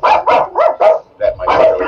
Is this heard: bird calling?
no